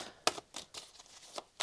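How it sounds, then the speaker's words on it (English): Tarot cards being shuffled by hand in a few short, crisp riffling bursts separated by brief pauses, close and fairly quiet. "Shuffling's dreadful."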